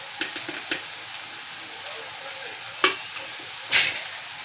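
Spice masala of Kashmiri chilli powder and onion-garlic masala roasts in a pan for an egg masala curry, giving a soft continuous sizzle with occasional light taps and scrapes of stirring; close, no voices.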